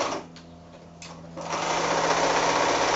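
A sewing machine stitches a quarter-inch seam around the edge of a child's cloth book made from a pre-printed fabric panel. Starts quiet, then settles into a steady, close, continuous whirring run.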